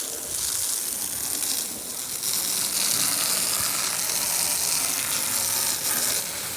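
Water sprays steadily to wash down the front deck of a Carolina Skiff during a teardown, a continuous loud hiss that holds from start to finish.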